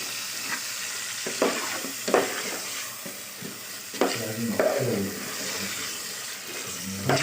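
Potatoes frying in oil in a kitchen pan, stirred with a utensil: steady close sizzle broken by several sharp scraping stirs and clatters, with no talk.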